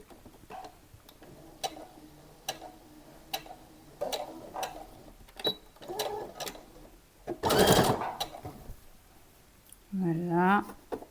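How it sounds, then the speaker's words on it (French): Short bursts of a sewing machine stitching fabric for a summer dress, each run a quick close mechanical ticking chatter with gaps between; someone speaks briefly near the end. "Je vais coudre."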